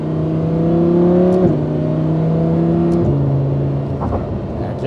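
The engine of a Lamborghini Huracan LP580-2 Spyder hums loud and close from inside the car under steady acceleration, dropping pitch at two quick gear shifts a second and a half apart.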